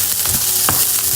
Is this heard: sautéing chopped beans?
yes